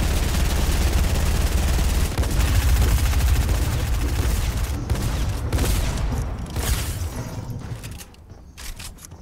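Dense, continuous gunfire from a Fortnite battle royale match, overlapping shots and bursts like a fusillade, loud and steady for most of the stretch before thinning out and fading toward the end.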